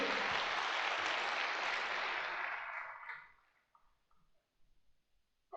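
An indoor audience gives a burst of applause at a talk in a hall, steady clapping for about three seconds that then thins into a few scattered claps and light noise.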